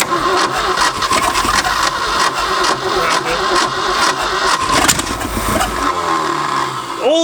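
A long-abandoned Ford F250 engine fires for the first time in 26 years, running loud and rough with an uneven, surging mid-pitched roar close by before a revving sweep near the end.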